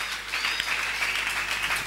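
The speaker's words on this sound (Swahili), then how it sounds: "wacha tuwapigie makofi" A church congregation applauds steadily, a dense continuous patter of many hands clapping at moderate volume.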